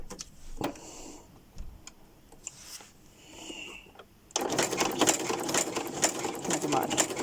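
A sewing machine stitching through fabric starts up and runs as a steady, fast mechanical whir, following a stretch of light ticking and faint movement.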